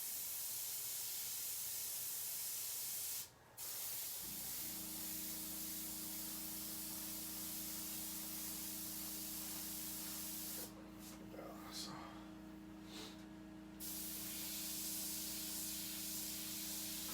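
An airbrush sprays paint indoors, a soft continuous hiss with a low hum that runs for most of the stretch, briefly dipping before resuming.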